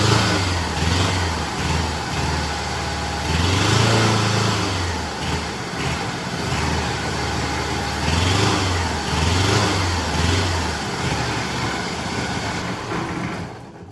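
A jon boat's motor runs continuously and close by, its engine note rising and falling in slow surges of revving.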